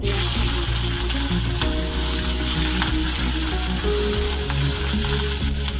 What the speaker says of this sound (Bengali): পেঁয়াজটা আমি বেশি লাল করে ভাজবো না,